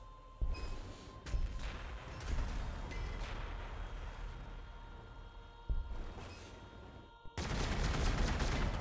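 Astra Militarum units open fire in Warhammer 40k: Gladius, a dense, sustained fusillade of gunfire and heavy bursts rolling continuously, with a brief lull before a final loud volley.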